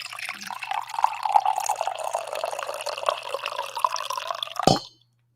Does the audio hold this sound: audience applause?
no